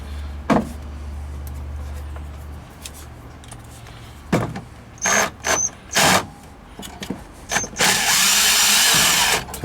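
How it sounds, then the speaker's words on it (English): Short bursts of an impact driver removing bolts from a key machine being mounted to a workbench, several loud whirring pulses spaced apart, with clunks and handling noises between them and a longer final run. "I'm just going to use my impact driver"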